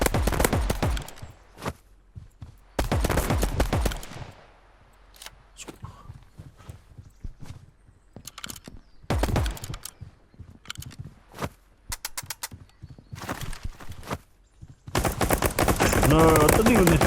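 Sniper rifle shots in a video game crack out in loud, sharp bursts, several separate volleys spaced across the stretch with quieter gaps of game noise and faint talk between them.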